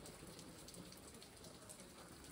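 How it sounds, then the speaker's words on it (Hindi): Rain falling steadily in a hill-station setting in Nathia Gali, an even, close hiss of dense drops with faint patters on surfaces and no voices. "बारिश आ गई"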